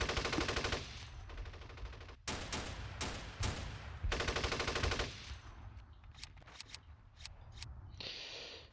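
Bursts of tank and squad gunfire from the Steel Panthers wargame in an Iran-Iraq war 1980 battle: loud, rapid machine-gun rattles and single shots in clustered volleys, then scattered sharp reports and a short hiss near the end.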